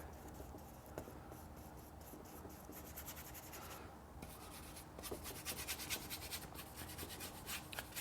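A brush scrubs turpentine-thinned paint onto a canvas for an abstract painting study, a steady close rasping and scratching that runs throughout with brief rhythmic strokes and a slight rise in intensity toward the end.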